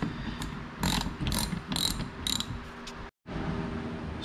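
Ratchet wrench tightening 18mm bolts on a 1992-97 Ford F-Series brake and clutch pedal assembly, a few short bursts of clicking pawl strokes, fairly quiet and close, with a brief silent gap near the end.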